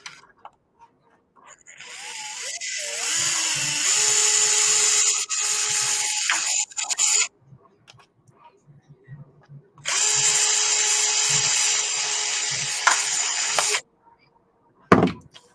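A small power drill bores holes for mounting a slider on an SCX24 Basecamp RC crawler, two long whirring bursts separated by a pause filled with handling clicks and rubbing, then a short knock near the end.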